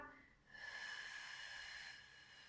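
A person breathes out while lifting up in a prone lumbar extension, a lower back strengthening exercise. One soft, airy exhale is heard, very quiet and lasting over a second, with no talk.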